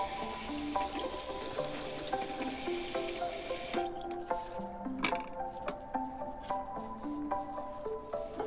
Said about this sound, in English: Wash the asparagus too,